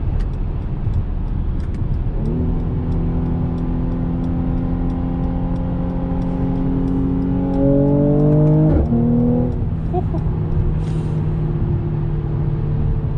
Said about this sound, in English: Pops and crackles from the exhaust are really nice.